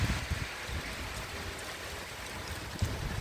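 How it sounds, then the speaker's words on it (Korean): Heavy rain pours down steadily outdoors, a dense, continuous wash of noise with low thumps of drops on a nearby surface. "비가 왕창 쏟아지고 있습니다"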